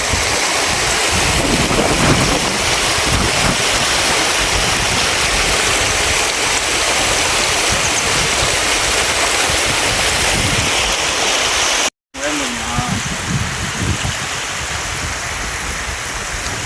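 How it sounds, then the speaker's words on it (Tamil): Waterfall pouring into a valley stream at a hidden spot in Kollimalai, a loud, continuous rushing roar of water close by that stays steady throughout, broken only by a momentary dropout. "அருவி கீழே ஊற்றுற இடத்த பள்ளத்தாக்கு தண்ணி நல்லா குழுகுன்னு இருக்கு"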